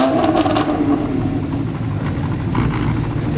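Supercar engines rumble together at the Beaulieu Supercar Weekend, a dense, continuous mid-pitched drone of idling and revving motors with a few swells, loud and close, with no voices on top.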